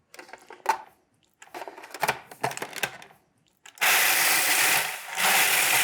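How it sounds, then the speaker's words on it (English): A food processor pulses twelve dairy-free graham crackers, broken up first, in short whirring bursts at the start, then runs in a longer, loud grinding stretch near the end. "pulse in the bowl of a food processor 12 dairy-free graham crackers"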